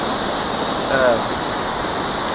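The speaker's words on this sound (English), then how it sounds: "And here's the dam." Steady broadband rush of water pouring over Rochester Dam on Mud River in Muhlenberg County, Kentucky, a constant, fairly loud roar filling the whole stretch, with a faint voice briefly under it.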